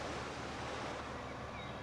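Waterfall in the Farming Simulator 15 game, a steady, broad rushing wash of falling water heard alone with no voices.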